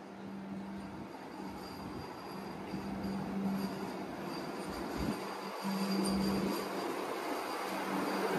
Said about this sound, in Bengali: দেখো চলে আসলো আজকের আমাদের ট্রেন